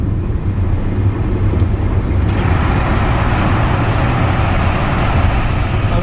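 A car drives into a road tunnel with surrounding traffic, making a loud, steady rumbling road roar. It becomes fuller and more enclosed as the tunnel closes in, and a few brief ticks sound early on.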